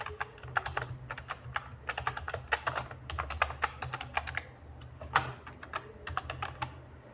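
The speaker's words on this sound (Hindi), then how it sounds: "सारा सिलेक्ट करूँगा, कंट्रोल जी करूँगा, कंट्रोल ई करूँगा" Computer keyboard keys clatter rapidly during CorelDRAW shortcut work, a close, steady run of crisp clicks with one sharper tap near the end, no voices.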